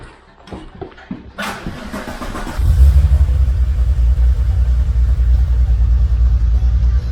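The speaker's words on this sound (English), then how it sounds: "I think you need to hear the cold start of the nice VR6." A VR6-engined car cold starts up close: a brief starter crank, then the engine catches with a loud rumbling surge and settles into a steady, throbbing high idle.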